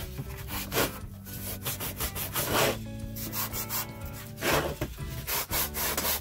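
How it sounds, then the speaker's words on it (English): Rhythmic rasping strokes of sandpaper on a wooden sign, back and forth in an uneven steady rhythm, close and moderately quiet with no talking. "I'm sanding, and I'm going to go ahead and sand it"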